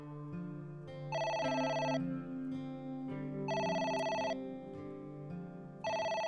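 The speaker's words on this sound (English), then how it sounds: "It's the phone. Maybe try picking it up?" A telephone rings in the video game AI: The Somnium Files, repeating electronic bell trills in a steady on-off pattern over a low background music bed, with no talking.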